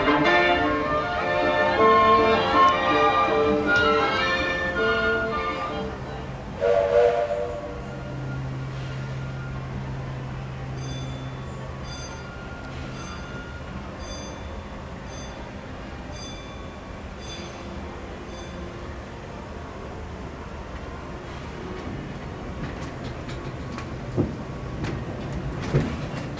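Disneyland Railroad train rolling along its tracks, a steady rumbling clatter with a loud opening burst of mechanical tones, then a long low rolling ride punctuated by faint bell-like dings.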